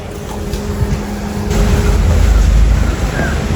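Vehicles roll in toward a village fair (jatra) in Bhingari, a steady engine rumble swelling louder midway as they draw near, with faint background voices.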